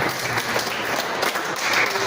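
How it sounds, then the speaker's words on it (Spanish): Members of a church congregation give a strong round of applause, a thick, even patter of many clapping hands lasting a couple of seconds without any speech over it. "Vamos a dar un fuerte aplauso."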